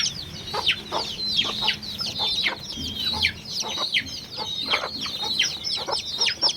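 Native country chickens kept in a coop cluck and chirp in a dense, continuous chorus of overlapping short calls, close and moderately loud over a low background hum.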